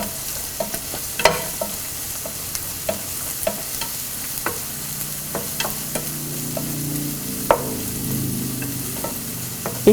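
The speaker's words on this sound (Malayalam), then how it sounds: "ഇപ്പോൾ ഈ ഉള്ളി നന്നായിട്ട് വഴഞ്ഞിട്ടുണ്ട്." Onions sautéing with curry leaves in a pan for a jackfruit seed stir fry, a steady low sizzle under repeated spatula scrapes and taps, close and moderately loud, with no talking.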